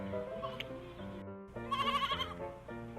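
A goat bleats over a backdrop of music in a children's fairy tale, one wavering, tremulous cry standing out in the middle against a steady musical bed.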